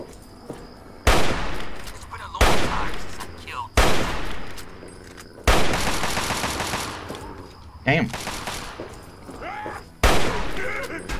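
Repeated gunfire in Fallout 3, with about six loud, sharp shots spaced a second or two apart, each one trailing into a ringing decay, while game ambience and faint voices sit underneath.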